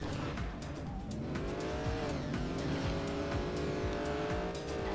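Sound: race car driving and tire squeal in Trackmania United Forever video game

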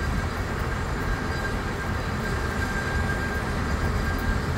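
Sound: old steam cog railway train running

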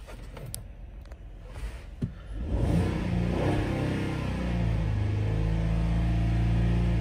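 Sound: 2016 Ford Explorer engine revving

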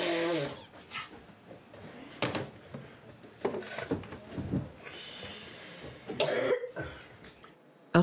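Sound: child coughing

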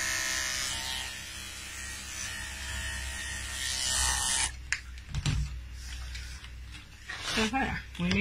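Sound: electric clippers shaving a dog's coat

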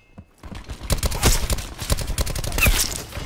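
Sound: gunfire in video game Black Ops 4

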